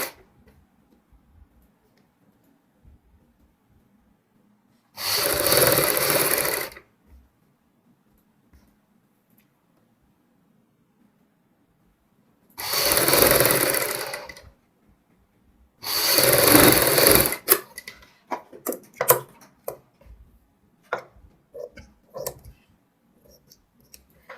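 Three bursts of an electric sewing machine running fast as it stitches a baby frock, each a steady whirring run of a second or two separated by quiet pauses, followed by light clicks and handling noises.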